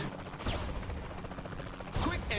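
Video game gunfire in Saints Row The Third, a few loud sharp shots in quick bursts over dense game noise, roughly at the start, middle and end.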